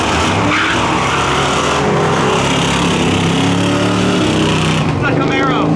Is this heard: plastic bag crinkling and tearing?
no